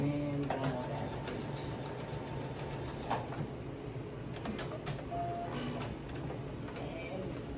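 Sewing machine back stitching while a two-piece set is sewn: steady mechanical whirr and clatter with faint creaks and ticks, running continuously at close range.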